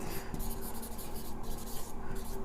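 Pen or chalk scratching steadily while a physics definition is written by hand, a continuous close scratchy sound in short strokes with brief pauses.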